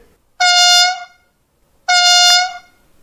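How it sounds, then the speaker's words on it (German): Two loud blasts of a deep, brassy Unimog horn from a Märklin H0 model road-rail Unimog, each about a second long, separated by a short silence. "Eine Unimog-Hupe."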